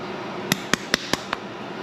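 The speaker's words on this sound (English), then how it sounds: "Dump it over, try to get all that crap out." Five sharp, evenly spaced knocks on a 16G turbo housing from an Evo 8 as debris is dumped out of it, close and crisp over a quiet background.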